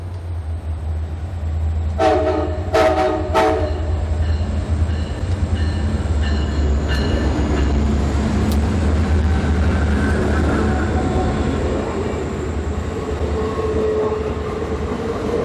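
The CSX Santa Train, a diesel-hauled passenger special, rumbles past a roadside spot by an old coal tipple. Several short horn blasts sound early over a constant heavy rail roar, with more faint horn notes later.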